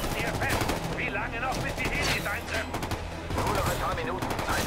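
Sustained rapid automatic gunfire with overlapping bursts in the Ghost Recon Future Soldier video game, loud and dense throughout with voices mixed in among the shots.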